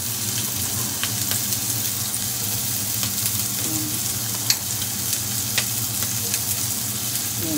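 Onions fry in a little oil with a loud, even sizzle and hiss, broken by occasional small pops and faint stirring scrapes, and no one speaks.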